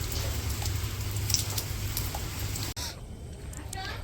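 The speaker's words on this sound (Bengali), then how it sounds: "আর বৃষ্টি ওইদিকে কইমা আসছে।" Rain falls in a village in the morning as it begins to ease, giving a steady, even patter on surfaces with a brief break partway through, after which it continues more quietly.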